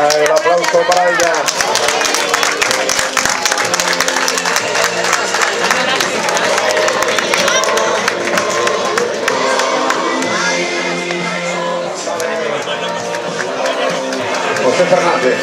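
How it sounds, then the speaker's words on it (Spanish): Crowd at a cyclocross race in Burgos applauding a rider, a steady dense wash of clapping and cheering with busy voices throughout, loud and sustained for the whole stretch. "Venga, el aplauso para ella."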